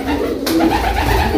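Pigeons at a breeding loft, with pairs sitting on eggs among young birds of various colours, coo softly and continuously at close range, mixed with low ambient rustle.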